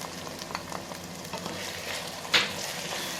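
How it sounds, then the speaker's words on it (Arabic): Garlic sautéing in a pan with onion, meat, coriander, chili and black pepper gives a loud continuous sizzle, stirred close by, with one sharp metallic clank partway through and no voices. "هنبدا نعمل تشويحتين كده للثوم"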